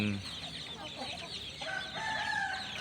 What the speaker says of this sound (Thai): มาชมลูกไก่ตากแดดครับ